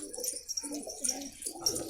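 Pigeons coo softly and continuously nearby, low rolling calls overlapping one another with faint rustling in the background.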